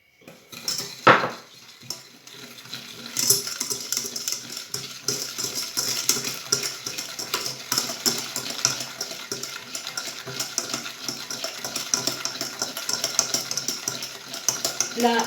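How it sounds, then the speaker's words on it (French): Sugar and eggs are mixed in a bowl, with a whisk or utensil clinking rhythmically against the bowl in quick repeated scrapes and taps, steady and close for several seconds after an initial knock. "on va mélanger donc le sucre"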